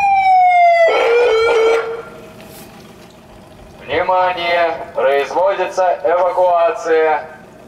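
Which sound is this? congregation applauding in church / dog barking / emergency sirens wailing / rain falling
emergency sirens wailing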